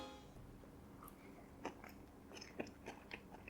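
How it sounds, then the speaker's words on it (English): Someone bites into a Korean pajan pancake topped with daikon, producing faint close crunches and soft chewing sounds scattered over a quiet background. "Let's eat the pajan as intended."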